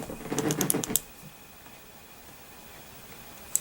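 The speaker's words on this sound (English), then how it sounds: "to turn the unit on, you got to click the power button 3 times" Three quick clicks from the power button of an Innokin iTaste VTR vape pen, close and crisp in a short burst, then near silence with one last faint tick.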